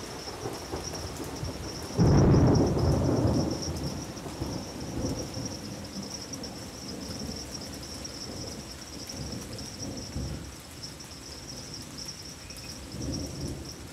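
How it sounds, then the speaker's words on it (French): A night thunderstorm breaks over a leafy forest: a loud, close thunderclap rolls out near the start, followed by steady rain and further low rumbles fading under the downpour. "dans la nuit, au-delà des feuilles, un orage s'annonce. Les gouttes vont tomber comme des obus."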